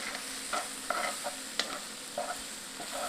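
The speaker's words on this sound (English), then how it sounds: "I'm gonna stir my dish around here again" A dish of corn, onions, mushrooms and chilies sizzles steadily in a pan while a utensil stirs it, giving several soft scraping clicks over a continuous quiet frying hiss, with no talking.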